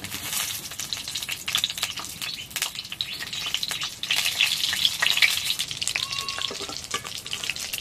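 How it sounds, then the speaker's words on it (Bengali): Pointed gourd (potol) frying in hot mustard oil in a kadai, giving a steady close crackling sizzle with scattered spitting pops throughout, alone without talk. "তারপরে দিয়ে দেব পটল।"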